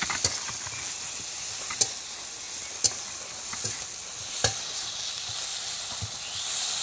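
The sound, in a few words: spice paste frying in pan for egg curry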